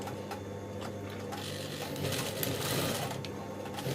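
A sewing machine stitches a bone channel on a wedding-dress bustier, running as a steady close whirring hum with a fast rhythmic needle beat throughout, no voices.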